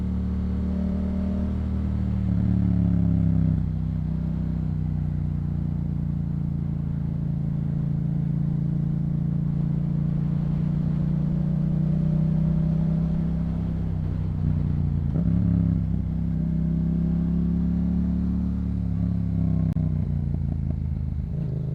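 A Yamaha MT-07 motorcycle fitted with a Yoshimura exhaust rumbles steadily while riding at low speed, a loud, close, continuous engine drone with slight throttle swells and no clear speech.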